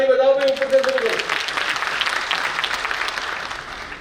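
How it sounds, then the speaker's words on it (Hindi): A voice briefly opens, then audience applause at the inauguration of a regional/state-level Hamara Samvidhan Hamara Samman campaign swells into dense, sustained clapping that fades slightly toward the end. "आप अपने लिए जोरदार ताली बजाओगे।"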